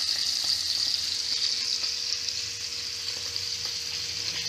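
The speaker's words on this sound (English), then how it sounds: "And you don't want to move them around in the pan. You want them to get a good sear." Marinated steak searing undisturbed in a hot pan, a loud, even hiss of frying fat that carries steadily with small crackles throughout.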